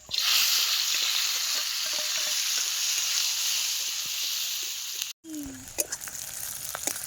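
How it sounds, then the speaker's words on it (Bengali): Garlic and green chillies hit hot mustard oil in a wok over an outdoor clay stove, giving a loud, bright sizzle that holds steady for about five seconds, then cuts off and returns as a fainter crackle with small clinks. "এবারে সরিষার তেল দিচ্ছি এই যে রসুন আর কাঁচা লঙ্কা"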